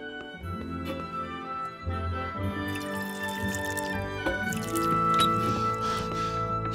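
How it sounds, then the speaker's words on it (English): A drink poured into a cup in Kingdom Come Deliverance, a steady splashing trickle of liquid with faint dripping, heard over a sustained musical backdrop for several seconds. "Pour us a drink."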